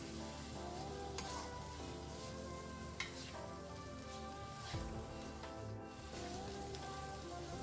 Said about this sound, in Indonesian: sekarang kita masukkan daging sapinya. Kita tumis sampai dagingnya menciut atau berubah warna.